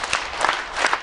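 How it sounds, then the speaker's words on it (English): Scattered audience clapping at an awards event, with a few separate bursts of claps spread across about a second and no talk over them. "Please give me one clap. Give me three."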